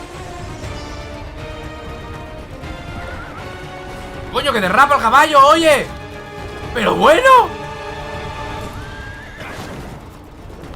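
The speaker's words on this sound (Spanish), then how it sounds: "que derrapa el caballo" A horse in a video game lets out two loud, wavering neighs over steady game sounds and hoof clatter, with someone talking before and between them.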